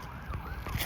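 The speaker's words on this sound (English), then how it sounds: "You hear the sirens?" Emergency vehicle sirens wail faintly in the distance, a brief continuous rising and falling tone under outdoor background noise.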